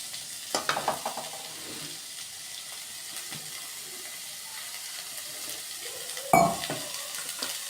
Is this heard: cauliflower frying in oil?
yes